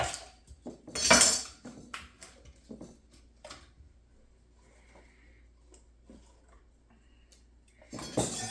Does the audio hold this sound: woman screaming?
no